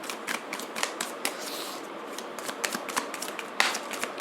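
Tarot cards shuffled and drawn for a weekly reading, heard as quick, close papery flicks and riffles in uneven bursts over a light background hiss, with no voices.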